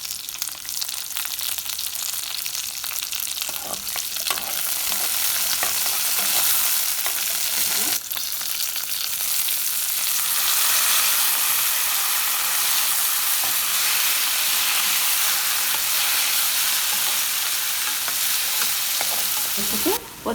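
Split green chillies fry in hot oil with a loud, steady crackling sizzle that runs unbroken, with occasional stirring scrapes heard close up.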